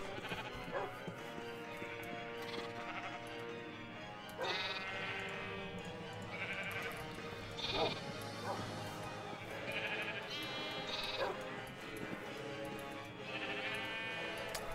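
Sheep in the video game Minecraft bleating repeatedly, several short wavering baas spaced a few seconds apart over a low steady background, fairly close and clear.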